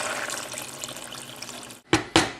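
Water runs steadily into a pan while a pumpkin soup is cooked, then two sharp knocks or splashes close the pour.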